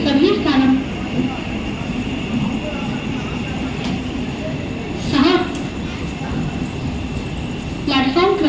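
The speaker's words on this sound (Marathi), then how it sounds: "प्लेटफॉर्म क्रमांक 3 पर आई हुई लोकल 6:47 की टिटवाला जाने वाली तेज लोकल है।" A fast local commuter train bound for Titwala stands at a platform at Diva junction at night, a continuous rumbling rail drone under recurring loud public announcements.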